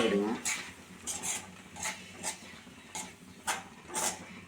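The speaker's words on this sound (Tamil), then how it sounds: "இதில் இதை லைட்டாக கிண்டி விடுங்க" A spoon lightly stirring sweet aval kojju, made with flattened rice, in a pan: soft, rhythmic scrapes and taps about twice a second, fairly quiet and close.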